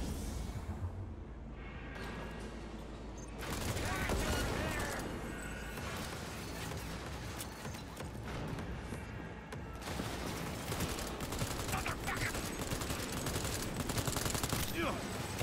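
Guns fire in the video game Cyberpunk 2077 in rapid, repeated bursts over a long stretch, loud and close, with voices heard between the shots.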